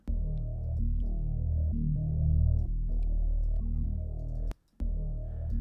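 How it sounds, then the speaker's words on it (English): A synth with a pulsing wah-like mid-range tone plays within a full song mix, its repeated swells riding over heavy low-end, steady and loud, with a brief dropout near the end. "there's an interesting sound in the mid-range here that I kind of want to emphasize here. The kind of wah, wah, wah kind of sound."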